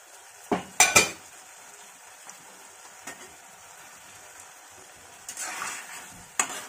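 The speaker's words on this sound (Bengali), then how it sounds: "এবার ঢাকাটাকে খুলে নেব।" A lid comes off a pot of Bengali drumstick stew, sharp metallic clanks and clinks standing out from a soft background sizzle, followed by a brief scrape and another clatter.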